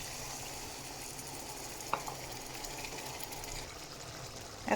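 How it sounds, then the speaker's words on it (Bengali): Egg curry sizzles steadily in a pan as a little water goes in, a constant frying hiss with a faint clink or splash partway through and another at the end, with no talking. "ডিম দিয়ে দিয়েছি, এখন অল্প একটু জল দেব।"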